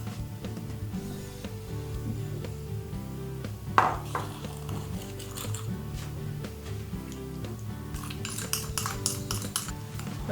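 A spoon stirs a vinegar and sugar mixture for vegan sushi rice, making light intermittent clinks and scrapes, with a quick rhythmic run of taps near the end, partly masked by steady background music.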